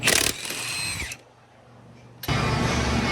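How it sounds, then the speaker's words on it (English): A power tool with a thin-wall 19 socket spins lug nuts off the rear wheels of a Cadillac CTS-V with a broken axle, two loud close whirring bursts separated by a quiet pause. "Let's get these lug nuts off and protect the wheels at the same time"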